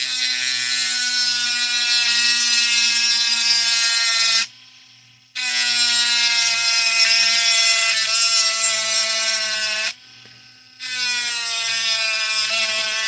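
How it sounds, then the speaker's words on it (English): A Dremel rotary tool runs with a steady high-pitched whine. It stops briefly twice and then starts again. "Sorry, I talk over Dremel."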